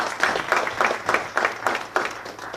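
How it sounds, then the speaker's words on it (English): A modest audience claps for a panel at a policy research event, distinct rhythmic handclaps in a loose, pulsing pattern, fairly close and with no talking over it. "Please give a round of applause for our panel."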